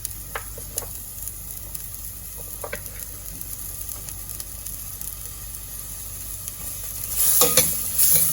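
Onion stir-fried in butter in a pan for Japanese beef curry, with a quiet steady sizzle, scattered scrapes and taps of a spatula, and a louder burst of frying near the end.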